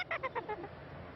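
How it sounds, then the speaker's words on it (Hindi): A quick run of about five harsh, squawking bird calls, each a little lower and softer than the last, then quiet. "सुना है तेरे पक्षी आपस में चोंच बहुत लड़ाते हैं।"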